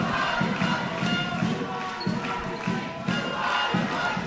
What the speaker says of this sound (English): As I'm sure you can hear the crowd continuing to chant through this timeout.